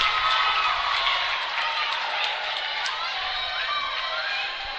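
Crowd at a high school basketball game between Polytech and Woodbridge cheering and clapping, a dense, steady roar of voices and applause heard alone, loud at first and easing slightly toward the end.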